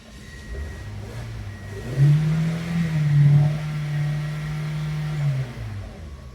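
A 2002 Toyota Echo engine cranks, catches and runs with a low, uneven hum, rising briefly before dropping off as it stalls. Heard up close and clear, with no talk over it.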